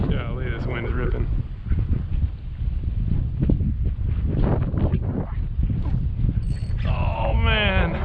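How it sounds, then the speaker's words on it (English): Strong gusty wind buffets the microphone throughout while paddle fishing for redfish and snook on the water before a cold front, a steady low roar beneath someone talking. "Golly, this wind is ripping."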